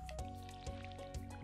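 Crops are watered in Stardew Valley, with soft repeated watery splashes and drips in a steady rhythm, quiet and unaccompanied by speech.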